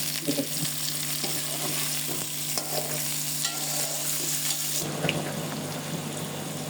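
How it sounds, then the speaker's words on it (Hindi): Chicken sizzles and fries in butter with garlic ginger paste in a pot, a soft, continuous frying hiss broken by stirring scrapes, which grow louder near the end. "साथ ही हम इसमें ये चिकन शामिल कर रहे हैं ताकि ये भी सुरख हो जाए"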